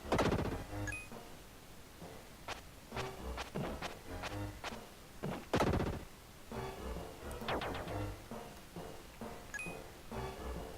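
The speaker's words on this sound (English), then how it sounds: "And now something's shooting somewhere." Sharp repeated shots from an enemy in the SNES action game Illusion of Gaia, crisp irregular bangs in a dungeon setting, faint and standing alone.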